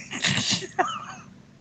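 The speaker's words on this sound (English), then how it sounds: "Sorry, I had a sneeze coming on." A single close sneeze with a breathy wind-up and sharp burst, then a short fading exhale.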